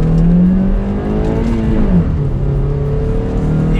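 A 2020 Honda City petrol engine with VTEC revs hard and high toward 6,800 RPM, the pitch climbing and dipping through sustained loud acceleration on an empty road, close and continuous.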